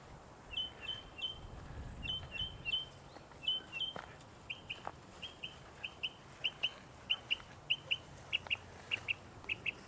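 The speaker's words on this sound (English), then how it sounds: "Bird is warning everybody." A wild bird in Texas brush country repeats a sharp, high warning call in clipped bursts, faint at first then growing louder and more regular toward the end, over soft outdoor ambience with no talk.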